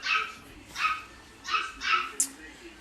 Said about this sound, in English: now he's on the porch barking